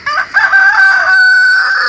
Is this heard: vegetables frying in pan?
no